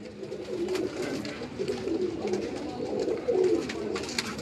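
Firozpuri pigeons coo steadily on a rooftop, a continuous low, rolling murmur of overlapping calls from several birds at moderate distance, with no talking.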